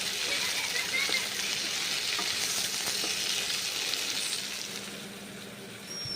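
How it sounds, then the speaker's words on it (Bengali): Kakrol (bitter gourd) and onion fry in a wok with a steady, close, hissing sizzle and occasional scraping stirs, continuing evenly throughout with no voices. "কড়াইয়ে এখন কাঁকরোলগুলো ছেড়ে দিচ্ছি এইভাবে ভেজে নিতে হবে খুন্তি করে নেড়ে চেড়ে নিতে হবে"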